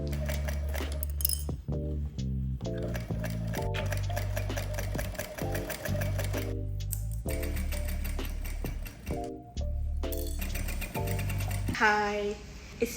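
A sewing machine stitches fabric for a front-tie top, running fast and nearly continuously with brief pauses, plus a few small clinks and a voice near the end.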